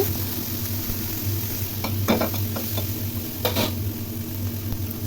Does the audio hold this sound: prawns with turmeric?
yes